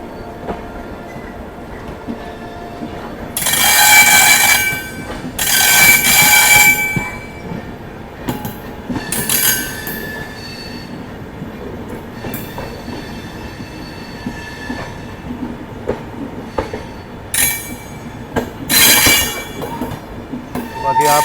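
The Chauri Chaura Express rolls into Kanpur Central station with steady wheel rumble and clickety-clack, broken by several loud bursts of squealing wheels and horn blasts, close by and without talk.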